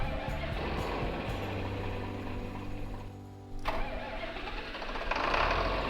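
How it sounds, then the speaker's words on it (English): An old tractor engine in the Farming Simulator 22 game cranks over with a loud, steady churning, dips briefly, then catches and settles into a fuller, rougher running rumble. "Let's go ahead and start this thing up and see if it starts."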